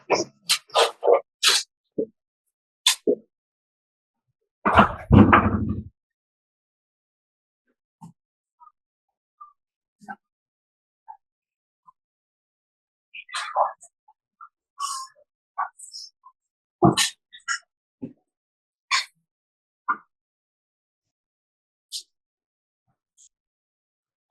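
A dog whimpers, snuffles and sneezes in short, scattered bursts across a quiet room, with one stronger sneeze-like burst and long silent gaps between the small sounds.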